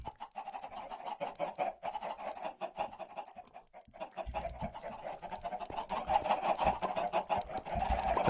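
Chickens in Minecraft cluck repeatedly in a dense, overlapping stream, growing louder and busier toward the end.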